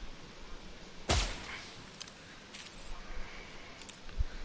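A suppressed hunting rifle in the Outer Worlds video game fires once as a sharp, muffled crack, followed by faint mechanical clicks and a soft thump in an otherwise quiet scene.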